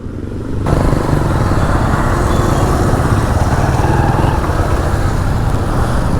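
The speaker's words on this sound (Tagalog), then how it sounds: "Mukhang traffic na dyan ah." Steady, loud broadband engine rumble of road traffic on Recto Avenue in Manila, with motors droning continuously close by and no clear breaks.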